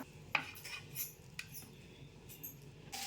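Masala rice served from a pot onto a plate, quiet sharp clinks and taps of a metal spoon against cookware, scattered and sparse over a faint background, no voices.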